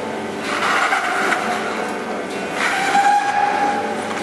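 A Jeep Wrangler Rubicon at an auto show turns all its wheels, giving a steady mechanical whirring rumble with swelling, rising tones, close and fairly loud.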